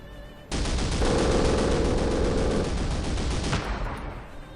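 An MG machine gun rattles in Company of Heroes, a loud sustained burst of rapid automatic fire lasting about three seconds before cutting off, with no talk over it.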